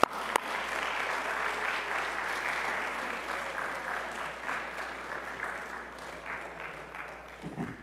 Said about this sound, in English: if you'd give Brian Osborne a round of applause